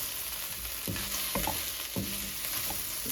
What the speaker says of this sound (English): So we continue frying the okra and give it a rest a little bit.